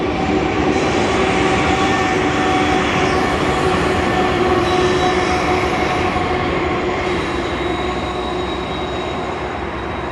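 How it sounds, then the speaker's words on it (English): A train rolls past nearby on the rails, a loud continuous rumble and metallic rattle with faint squealing wheels, steady throughout. "we're coming towards the end of the train now."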